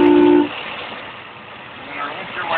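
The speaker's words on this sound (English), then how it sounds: "here's the fabulous horn" Horn of a 1932 Chevrolet roadster honks once in a short, loud, steady blast, then cuts off, leaving the idling engine rumbling beneath.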